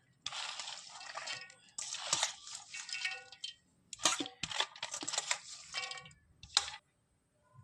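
Chopped cauliflower and potato tip into a silver pan with chopped onion and break into a close, crackling sizzle in several bursts, with brief pauses between.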